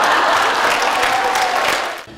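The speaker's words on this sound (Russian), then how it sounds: "Команда жюри не подкачала и сорвала овации за эту шутку в разминке." Audience at a KVN comedy show bursting into loud, sustained applause after a warm-up joke, a dense wash of clapping that holds steady and then tapers off near the end.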